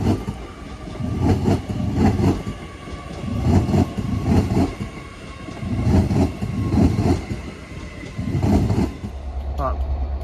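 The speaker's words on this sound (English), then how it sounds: "we have one of the new Avanti trains running from Edgehill Depot to London Euston" Avanti train 805001 runs past on its way from Edgehill Depot to London Euston, with a steady rolling roar and repeated rhythmic clickety-clack bursts of wheels over rail joints, close and loud throughout.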